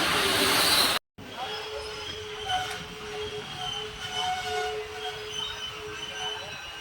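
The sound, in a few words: Madurai Guruvayur Express train passing at crossing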